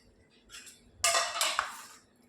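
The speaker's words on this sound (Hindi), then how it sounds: "तो इसमें हम जो अंडा फ्राई करके रखे थे वो छोड़ देंगे इसमें।" Fried eggs go into a pan of potato egg gravy with a soft clink, then a louder burst of metal clatter and scraping against the pan, close by, with no talking.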